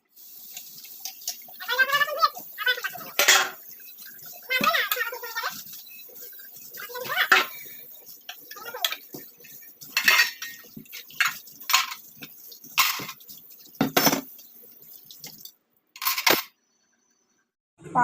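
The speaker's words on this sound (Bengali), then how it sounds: "কতগুলো বাসন হয়ে গেছে, বাসনগুলোকে ধুয়ে নিই।" Dishes and utensils are washed at a kitchen sink, with running tap water, splashing and repeated clinks and clatters of metal pots and plates coming in irregular bursts close to the microphone.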